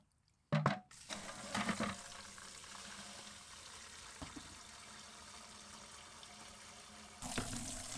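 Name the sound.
rinsing buckets with water and tipping it out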